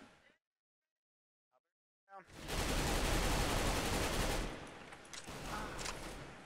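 Gunfire in the shooter game CS:GO breaks out after a near-silent pause as a sudden loud, dense volley lasting a few seconds, then trails off into scattered shots.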